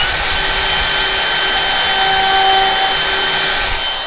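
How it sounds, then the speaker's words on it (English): Steady, close, high-pitched whine of a cordless router cutting texture into a wood inset carving, running continuously and loud throughout. "This cordless router, I have to search for the switch all the time."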